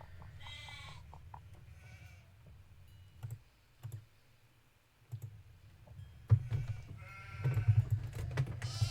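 Cartoonish sheep bleats from the video game Haunting of Castle Malloy, a few short wavering calls near the start and a louder cluster at the end, over a steady low hum with scattered clicks.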